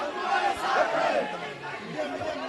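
A dense protest crowd packs a road blockade outside the BJP office in Mumbai, where Congress supporters face police trying to lift them away; overlapping shouts and chatter form a steady, mid-distance roar.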